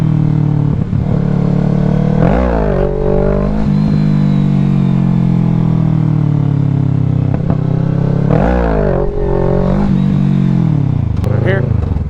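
Motorcycle engine revving hard and loud during a wheelie, the pitch climbing and dropping in repeated surges, with wind buffeting throughout.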